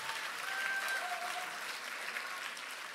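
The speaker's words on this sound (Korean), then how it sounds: "노무현 전 대통령님께 큰 박수 부탁드립니다" Sustained applause from a large audience at a ceremony marking a party anniversary, a steady wash of many hands clapping that carries through without pause.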